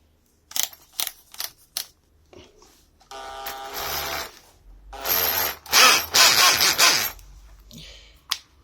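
A Makita 8443D cordless drill with a blown first gear runs in gear 1, giving a few short clicking bursts, then two longer loud grinding, rattling runs with brief pauses, close up and with no talking.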